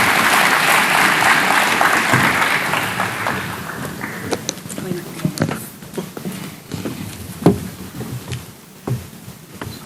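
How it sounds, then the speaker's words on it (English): Loud applause from the audience at a jobs summit greets the business organisation president, a dense burst of clapping that thins into scattered claps and shuffling toward the end. "Can we give him a round of applause?"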